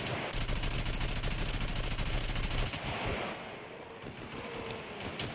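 Bursts of automatic gunfire in the survival game Scum, a loud, rapid, steady rattle lasting a couple of seconds, then broken off into a few scattered, fainter shots.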